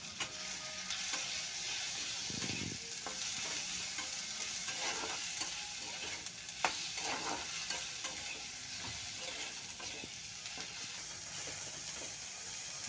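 Tomato, onion and chili sizzle in a pan with mustard seeds, a steady faint frying hiss broken by scraping stirring strokes and occasional utensil clinks, with no talking.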